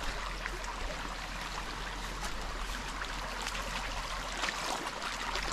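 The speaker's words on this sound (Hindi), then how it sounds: "अच्छे से पानी जा रहा है।" Water runs steadily from a pipe in a rural hillside setting in Arunachal Pradesh, a continuous close, rushing, gurgling stream with no pauses.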